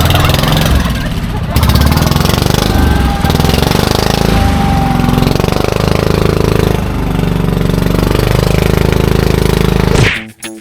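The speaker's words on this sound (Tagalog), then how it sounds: "Aalis na po ang tropa sa bangka po ni Tatay Alan" A loud outrigger boat (bangka) engine chugs and drones steadily up close, with voices talking underneath, then the sound cuts off abruptly.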